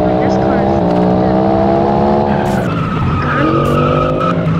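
A Bugatti is driven in the Roblox game Vehicle Simulator, its engine whining through rising and falling gear tones with tyre skids, loud and close while a voice talks over it.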